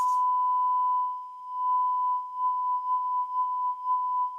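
A steady pure tone resonates in a resonance column tube during a speed-of-sound experiment, holding one clear pitch for several seconds, moderately loud and close, with slight swells in volume and no talking.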